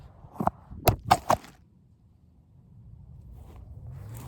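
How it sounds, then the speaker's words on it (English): A phone falls and clatters, three or four quick sharp knocks bunched within a second, then quiet room tone. "Not sure why the phone fell though."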